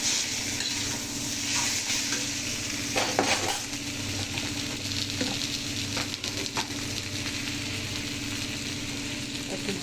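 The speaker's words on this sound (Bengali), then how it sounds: "এবার বেগুনটা দিয়ে দেবো" Eggplant frying in a pan with green chili and red chili powder, a steady loud sizzle with occasional scraping stirs from a utensil, close and continuous with no talking.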